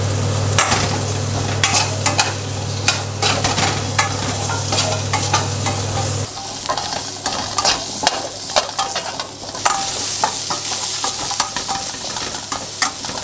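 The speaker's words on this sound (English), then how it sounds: "In the same pan, I'm gonna cook my rustic vegetables. First up is the carrot and the radish." Carrot and radish pieces fry in a hot pan, a loud, steady sizzle up close with frequent clattering stirs and scrapes throughout and no talking.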